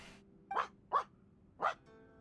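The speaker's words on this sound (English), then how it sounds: "No, that's an actual dog's bark, Paimon." Three sharp dog barks in a video game, evenly spaced and fairly close, standing out over a quiet ambient background with no talking.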